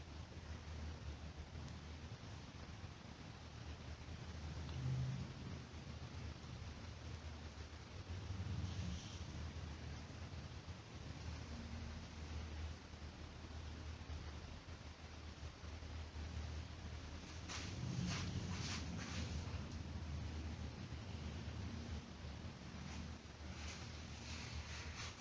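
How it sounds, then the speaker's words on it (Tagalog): Strong wind roars steadily through a blizzard snowstorm, a loud continuous rumble with gusts swelling and buffeting the microphone, heard alone for the whole stretch. "naririnig nyo yung ihip ng hangin."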